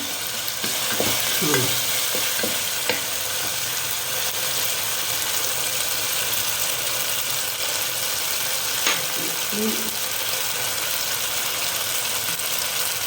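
Ginger garlic paste sizzles and fries steadily in a pan for a long stretch while a spoon stirs it, giving occasional scraping knocks against the pan under the constant hiss.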